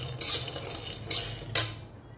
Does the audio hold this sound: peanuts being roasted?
yes